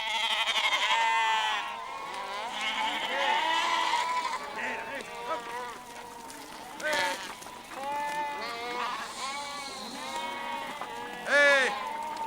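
A flock of sheep bleats on the salt meadows of the Baie de Somme, many overlapping wavering cries from several animals calling close by, one after another with brief gaps.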